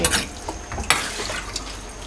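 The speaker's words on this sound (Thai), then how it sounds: "นี่ฮะพอเราก็ผัดนะฮะผัดจนรู้ว่าหมูสุกแล้วนะครับ" Pork is stir-fried in hot oil in a plain black pan more than twenty years old, with crackling sizzle, scraping strokes and a sharp clatter of the utensil against the metal.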